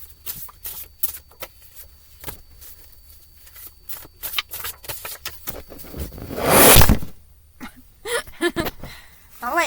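A deck of tarot cards is shuffled close by in a quiet room: quick bursts of riffling and flicking, then a louder swell of cards being bridged together, with sparse, scattered taps in between.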